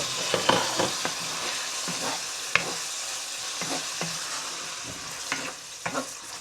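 Garlic flakes fry in a pan with beef salpicao, sizzling steadily under repeated close stirring scrapes and knocks of a utensil, with no talk.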